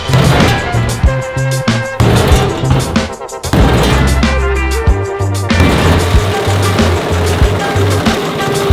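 Loud metallic banging and crashing as a hammer strikes the body of a Mazda RX-7 Baja car, with heavy repeated blows and clanks ringing against metal, continuous and close.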